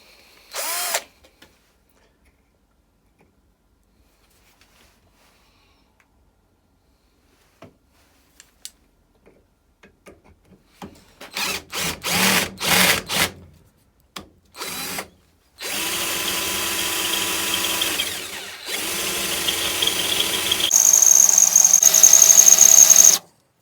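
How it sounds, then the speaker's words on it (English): A Raitool 48VF cordless drill bores a 10mm hole, starting with short quiet clicks and brief spurts of the motor, then running in loud sustained bursts that grow stronger toward the end. "We'll see if we can drill a 10mm hole in this."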